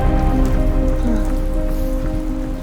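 Heavy rain pours steadily during a marathon training run, a dense, continuous hiss of drops hitting surfaces, loud and close with no break.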